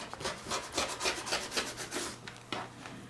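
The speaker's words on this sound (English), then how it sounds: "I'm just going to cut off some of this batting here so it's not in my way" Scissors cutting off quilt batting for a small quilted mug rug, a series of close, soft rasping snips in quick succession, alone with no talking.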